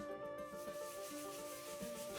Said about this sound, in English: Scribes like Asaf Levi start by sanding the parchment and then sprinkling it with chalk